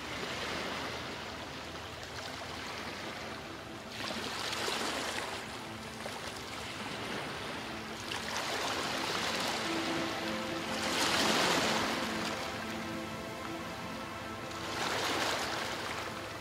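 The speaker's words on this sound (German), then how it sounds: "Du bist am Meer." Sea waves wash onto an ocean shore in slow, swelling surges every few seconds over a continuous soft roar of surf, moderately distant and calm.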